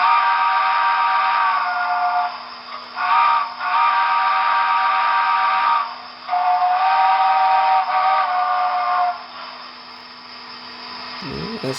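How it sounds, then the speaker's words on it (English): Default steam whistle of a Broadway Limited Imports USRA Heavy Pacific model locomotive, a loud chime-like whistle in several long blasts separated by short gaps, ending in a softer fade. "the default whistle that comes with the locomotive."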